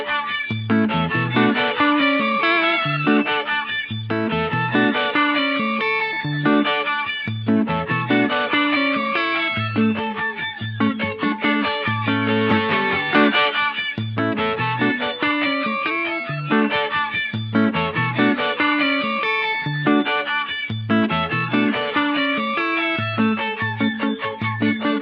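Electric guitar through an Electro-Harmonix Deluxe Memory Man 550 TT analog delay set for octave-up repeats with vibrato modulation, giving an organ-like tone; steady, dense layered notes and echoes ring out continuously and loudly, with no talking.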